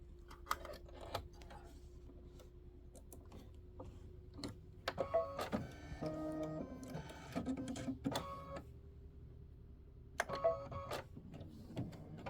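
A computerized embroidery sewing machine stitches a table runner block in azalea thread, a steady hum with clattering, pulsing bursts of needle action and occasional beeps, close by, with no voices.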